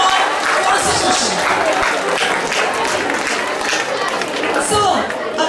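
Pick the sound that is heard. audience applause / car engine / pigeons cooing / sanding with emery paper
audience applause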